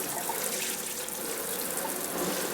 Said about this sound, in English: So I'm just watering this in. Let it drain.